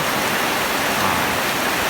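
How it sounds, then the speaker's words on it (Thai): Heavy rain pouring down steadily at a rural outdoor spot, a loud, dense, unbroken hiss of falling water with no pauses and no voices. "วันนี้ฝนก็ตกนะครับเนาะ ตกหนักครับตกหนักมากเลยครับตอนนี้"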